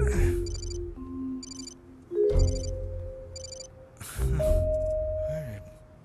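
A telephone rings in short repeated electronic bursts over a muffled indoor scene, with a person's voice and movement heard between the rings.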